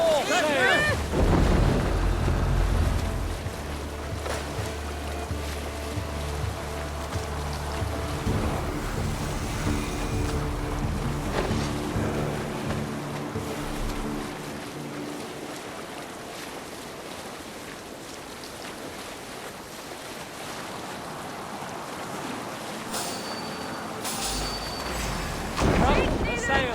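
A ship sailing on the open sea in the video game Assassin's Creed Valhalla: rushing wind and surging waves roar steadily and loudly, with shouting voices over the din and a louder swell at the start and end.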